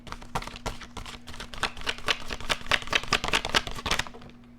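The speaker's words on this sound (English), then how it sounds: "I'm getting better with my shuffle" A deck of tarot cards being shuffled by hand, a rapid run of crisp papery riffles and flicks that carries on steadily and close by, with no talking.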